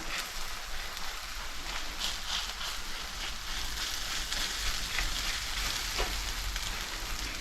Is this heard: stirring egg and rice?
yes